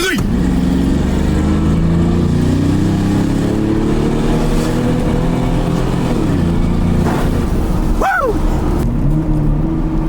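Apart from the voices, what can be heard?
V8-swapped Jaguar engine revving during a burnout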